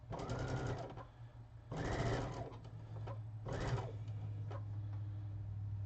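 Sewing machine stitching through nested quilt seams, running in three separate bursts of steady fast needle chatter with a low motor hum continuing between them.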